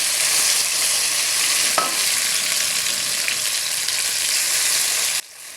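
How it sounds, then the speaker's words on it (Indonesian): Ground spice paste for spicy sausage fried rice sizzles loudly in a hot pan as it is stir-fried, a steady crackling hiss with a brief scrape, cutting off abruptly near the end. "Tumis bumbu yang sudah dihaluskan"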